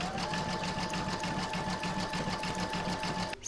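An embroidery machine stitches a decorative border around the rabbit's head on an Easter bunny design, a fast, steady mechanical needle patter running continuously and close up before stopping abruptly at the end.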